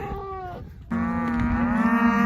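Cattle and calves penned on a farm moo loudly and close by, one shorter lowing call followed by a long, sustained, drawn-out moo, with no talking.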